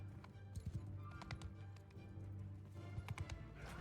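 Horse hooves clip-clop in a Mount & Blade Bannerlord battle, a quick uneven run of hoof taps over a low steady game hum, fairly faint.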